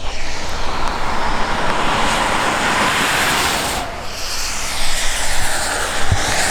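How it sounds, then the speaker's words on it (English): Road traffic on a northern road trip, loud continuous rumble and tire roar of cars passing close by, with a brief dip in the middle before the noise swells again. "Yeah, loud cars."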